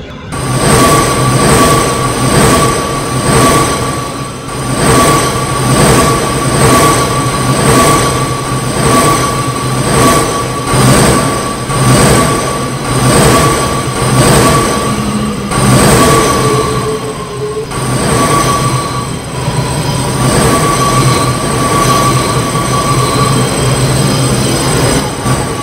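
A New York City subway train in a video game, Sunset Subway, rumbles along at a steady loud level, with rhythmic clicking of wheels over rail joints and a faint high squeal.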